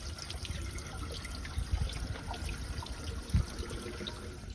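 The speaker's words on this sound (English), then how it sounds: "We're just going to unscrew it with the water flow out of the heater manifold" Water drains and trickles out of a pool heater manifold as it is unscrewed, giving a steady close splashing flow with a couple of louder gurgles and no talking.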